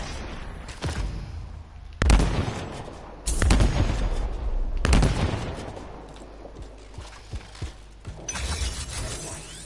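Sniper rifle fire in the video game Anthem: a few loud, sharp shots spaced seconds apart, each followed by a ringing, crackling tail over a busy battle background.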